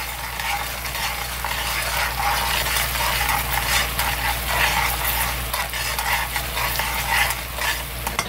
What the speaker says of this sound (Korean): 자, 이제 30번을 이렇게 저어줍니다